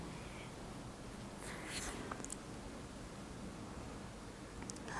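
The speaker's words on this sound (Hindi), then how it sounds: "एक क्वेश्चन और लिखता हूं" Chalk or marker strokes writing a question on a classroom board, faint scratchy bursts over a constant hiss, with a few brief sharp taps near the middle and end.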